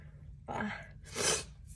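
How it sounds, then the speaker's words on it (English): A sharp breathy intake followed by a short explosive sneeze, close and fairly soft. "Oh gosh, I feel a sneeze coming."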